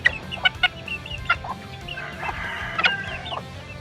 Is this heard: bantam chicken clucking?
yes